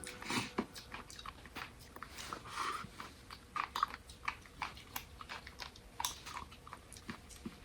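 Leftover sushi is chewed close to the mic in quiet, soft ASMR style, with irregular small crunches and pops spread through the eating.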